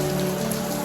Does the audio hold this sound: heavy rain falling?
yes